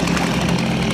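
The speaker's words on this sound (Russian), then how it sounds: "давай бензопилой" A chainsaw cuts through wood at a log-choked river, its engine roaring in a loud, steady, close drone that never lets up.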